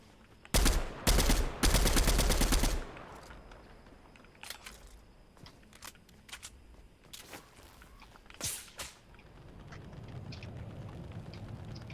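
Bursts of rapid gunfire in a shooter video game, loud automatic volleys in the first few seconds, then scattered shots, footsteps and impacts trailing off into a low rumble.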